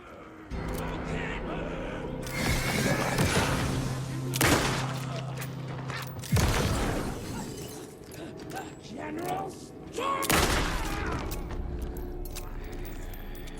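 Gunfire from the video game Alan Wake 2 comes in several sharp, loud bursts separated by pauses, mixed with mechanical clicks of reloading and handling, with voices underneath.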